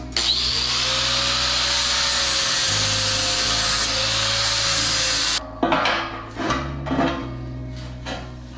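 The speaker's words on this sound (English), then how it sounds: "Grind this down bit so that we get it a little smaller." A power tool grinding down a piece of metal grate for a homemade wood-fired sauna stove, a loud steady high-pitched whine for about five seconds before cutting off, followed by a few scraping and knocking handling sounds.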